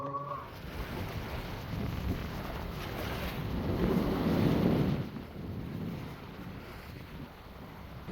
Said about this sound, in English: Agora, que tem vento, que tem ondas.